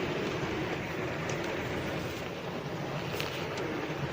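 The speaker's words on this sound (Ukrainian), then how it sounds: "Таке лиє, як з відра. Чекаємо, поки перейде дощ." Steady, dense wash of heavy rain pouring down close by, a constant broadband roar with no pauses and no voices.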